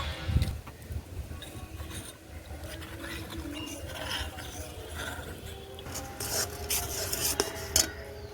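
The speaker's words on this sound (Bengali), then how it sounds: "এক চামচ মতন কর্নফ্লাওয়ার নিয়েছি, হালকা একটু জলে গুলে নেব" A spoonful of cornflour stirred into a little water with a spoon, making soft scraping and clinking strokes against the container, close and fairly quiet, with a few brief knocks and no talk.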